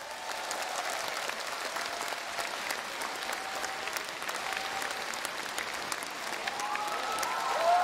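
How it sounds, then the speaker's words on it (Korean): A large audience at the Jeonju MBC spring outdoor concert applauds steadily from some distance, a dense, even wash of clapping that swells slightly at the end. "박수 부탁드립니다."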